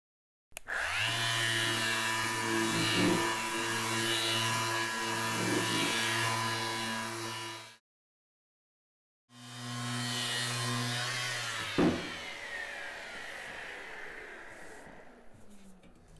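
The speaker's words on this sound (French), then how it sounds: "Je vais donc d'abord poncer." An electric sander works over the fuel tank and seat of a café racer motorcycle, a loud steady whine running close up, stopping for about a second and a half, then resuming.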